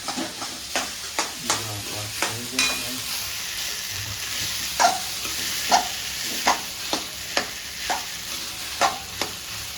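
Rice being stirred into a ketchup, sugar and lemon sauce in a frying pan: a steady sizzle under a regular series of sharp spatula scrapes and knocks against the pan, close and fairly loud, without speech.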